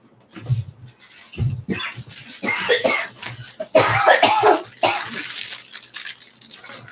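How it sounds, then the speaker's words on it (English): Several raspy coughs and throat clearing in irregular bursts, close and fairly loud, with quiet pauses between. "the coughing will continue until morale improves"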